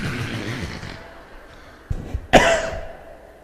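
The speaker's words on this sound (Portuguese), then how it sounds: "Ao longo da palestra eu vou tossir muito, porque eu estou com pneumonia." A man with pneumonia coughs during a lecture, a couple of short dry coughs followed by one sharp loud cough, close to the microphone after a fading voice.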